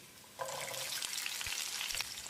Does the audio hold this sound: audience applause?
no